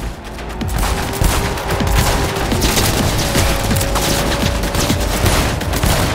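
Dense automatic gunfire fills a Cyberpunk 2077 firefight, rapid cracking shots overlapping with booms and impacts in a constant, loud barrage with no pauses.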